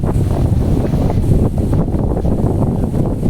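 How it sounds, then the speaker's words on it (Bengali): Strong, stormy wind by a river in the Sundarbans roars and buffets the microphone in a loud, unbroken rush of low rumble and gusting noise, with no voices. "আবার পুরো ঝড়ের মতো হাওয়া হচ্ছে এখানে"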